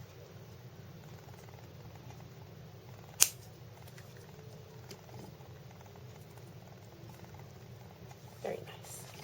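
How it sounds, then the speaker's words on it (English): Wire cutters snipping excess jewelry wire, one sharp crisp snip standing out against a low hum of room noise, followed later by a small softer clatter. "cut off the excess wire, making sure that you cover your wire so that it doesn't fly"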